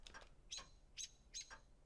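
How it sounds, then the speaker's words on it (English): A bird in a video game chirps in short bright bursts, about four quick calls spaced roughly half a second apart, faint and clear with no talking. "The bird chirped in protest."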